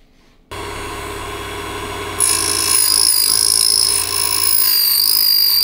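A key duplicating machine cuts an NI04T transponder key blank, a loud steady whine that starts abruptly and rises to a higher, harsher grinding pitch partway through, continuing without pause.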